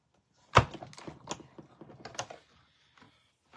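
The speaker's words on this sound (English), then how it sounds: "you're just going to crank it through the Stampin' Cut and Emboss machine" A Stampin' Cut and Emboss machine is cranked by hand to feed a card through for embossing, giving a close run of clicking, thunking mechanical turns that fade into quiet near the end.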